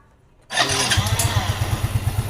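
A Yamaha Mio Soul scooter engine, freshly oiled to cure a noisy engine, cranks and catches after a brief quiet moment, then settles into a loud, steady putter close by.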